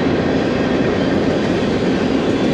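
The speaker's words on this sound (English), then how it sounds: "why that train sound haunts me everywhere I go" A train passes near the Erie Canal, a loud, steady rumbling roar that fills the whole stretch without pause.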